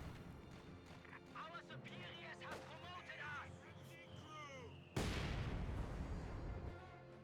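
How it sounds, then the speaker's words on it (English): Battle sounds from the Company of Heroes 2 strategy game, with an incendiary grenade and artillery fire: game effects and voices run under talk, then a loud, sustained burst of fire or explosion takes over for the last couple of seconds. "Goes down incendiary grenade by the stormtroopers"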